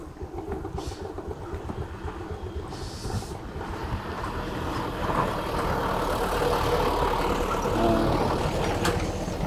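A truck engine hauling harvested tea rumbles steadily on a rural road near Sukabumi, its low drone swelling louder over the clip, mixed with heavy wind buffeting.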